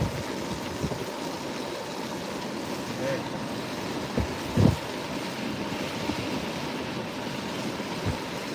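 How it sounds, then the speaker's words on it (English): Wind buffets a microphone near a parked car in a steady, broad rush, with a few brief low thumps from gusts. "We got a big gust of wind there."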